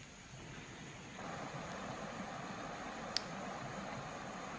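Forest stream water flowing along a jungle trail near Bangalan Waterfall in Mon State, Myanmar, heard as a steady, moderately faint rushing wash with no voices.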